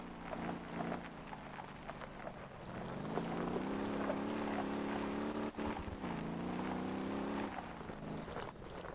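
Semi truck engine in the Motor Town driving game, a steady droning hum with layered harmonics that rises in pitch around the middle and holds, with wind-like rush over it throughout.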